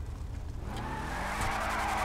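A police car in GTA 5 revs its engine and skids its tires, a steady loud roar with squealing tire noise rising toward the end, close and continuous with no talk.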